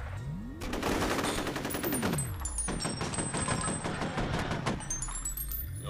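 Rapid bursts of particle rifle fire in the F.E.A.R. shooter game, loud and dense, coming in two long volleys with short gaps and bright metallic ringing tails, with no voices over it.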